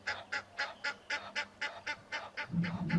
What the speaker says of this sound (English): Those bullies are the Egyptian geese.